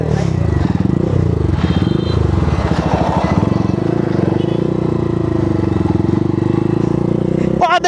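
A new motorcycle being ridden gives a loud, steady engine drone close by, its pitch wavering with the throttle, while people talk over it throughout and a clatter comes at the end.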